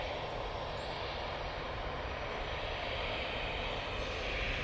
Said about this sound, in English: EasyJet coming in